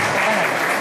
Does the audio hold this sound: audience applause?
yes